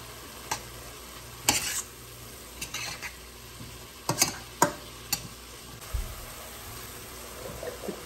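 Onions, garlic and vegetables softening in a pan give a faint steady sizzle, broken by sharp clicks and scrapes of stirring.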